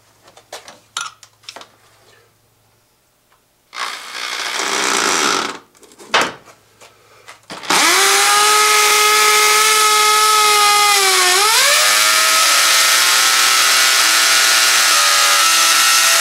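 After a few scattered knocks and a brief burst, a hammer drill starts and runs loud and continuous, its pitch dipping briefly before holding steady.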